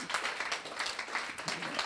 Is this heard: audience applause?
yes